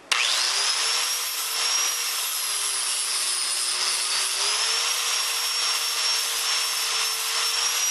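A Dremel rotary tool grinds a small metal tightening nut from a drill press stand, a steady high-pitched whine holding for the full stretch, loud and close with no talking.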